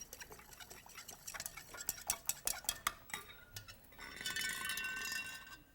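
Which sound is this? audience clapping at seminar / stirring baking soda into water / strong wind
stirring baking soda into water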